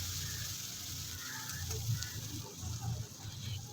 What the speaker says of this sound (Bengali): পেঁয়াজটাকে একটু ভাজা করে নেব, যেন গায়ে কালার না আসে কিন্তু নরম হয়ে যাবে